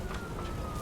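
Police car siren in the video game Nobody Wants to Die, a brief distant wail under a dense rumbling background, no talking.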